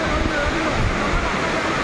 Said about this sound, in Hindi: फाइनली हम वाटरफॉल के अंदर हैं।